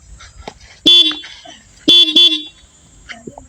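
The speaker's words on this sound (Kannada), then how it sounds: "ನೋಡೋಣ ಹಾರನ್ ಚೆಕ್ ಮಾಡೋಣ" A Yamaha MT15 motorcycle horn sounds twice up close, two loud, short, bright honks about a second apart, the second slightly longer, with quiet background noise and faint voices between.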